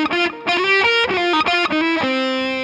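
Heavily distorted electric guitar chords through a Kammler Mono-Kai speaker cabinet ring out loud and full, struck in a few separate bursts with sustained, thick harmonic tones.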